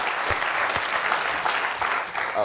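Studio audience applause on a comedy game show, a thick, even patter of many hands clapping for the whole stretch at moderate level.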